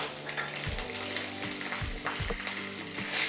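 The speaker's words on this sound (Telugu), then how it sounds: "కరివేపాకు వేస్తానండి." Curry leaves and peanuts fry in hot oil for a puffed rice masala mixture, with a steady close crackling sizzle and a few scraping stirs through it.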